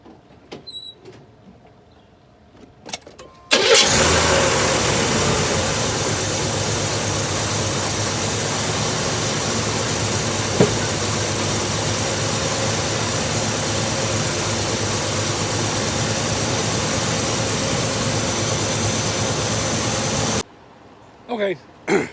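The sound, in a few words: 1985 Chevrolet S10 engine starting and idling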